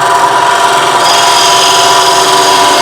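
A bowl gouge cuts across the face of a spinning wooden bowl on a lathe, making a loud, continuous shearing hiss with a steady tonal hum underneath. It is close up and unbroken, with no speech.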